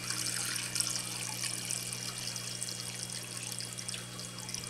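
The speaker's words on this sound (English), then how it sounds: "Pour it into the tank." About a gallon of pre-mixed salt water poured into a saltwater aquarium tank, a steady close trickle and splash running evenly over a low constant hum, with no talking.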